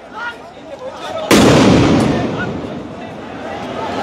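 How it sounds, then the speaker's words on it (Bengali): A police sound grenade explodes with one sharp, very loud bang, its rumbling echo fading slowly over several seconds against a noisy outdoor crowd background. "পুলিশ সদস্যরা তাদেরকে বারবার কিন্তু আবার একটি সাউন্ড গ্রেনেড নিক্ষেপ করছে"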